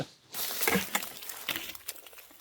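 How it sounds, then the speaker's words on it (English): Irregular drips of water falling off trees in a winter camp after snow and freezing rain patter close by, some sharper and louder than others, scattered unevenly over a quiet outdoor background. "most of what you're hearing right now is just stuff dripping off of the trees"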